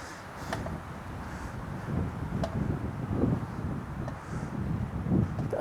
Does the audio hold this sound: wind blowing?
yes